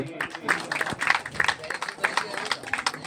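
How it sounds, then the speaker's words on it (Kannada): Guests at a family function clap together in a quick, uneven patter of hand claps lasting a few seconds, with voices audible under the applause. "ತಮ್ಮೆಲ್ಲರ ಜೋರಾದ ಚಪ್ಪಾಳೆಗಳೊಂದಿಗೆ"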